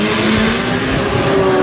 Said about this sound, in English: Now it's time to talk about the race car.